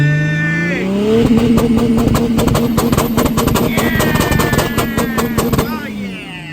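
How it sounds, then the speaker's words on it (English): A Mercedes E320 CDI W210 with an OM613 diesel engine, tuned to around 400 bhp, revs hard on an anti-lag 2-step from idle while stationary, its loud steady drone broken by a rapid burst of sharp pops and crackles. "we can integrate anti-lag, so we can get the boost built up from idle without even needing it to be on the roll or in gear"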